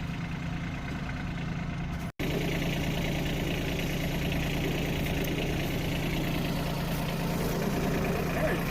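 A snowblower engine runs steadily at a constant drone, close and loud, with a brief cut near the start, while people talk faintly in the background.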